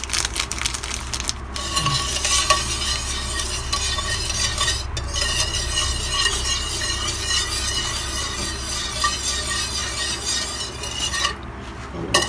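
Hotcake batter is stirred in a bowl to dissolve the sugar, a continuous scraping swish with a few brief clinks of utensil against the bowl, steady and close, without speech.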